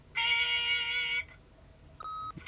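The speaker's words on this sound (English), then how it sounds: "leave a message at the beep and we'll get back to you as soon as" An answering machine beep from The Wolf Among Us video game sounds as one steady, fairly loud electronic tone lasting about a second, followed by a quieter second tone.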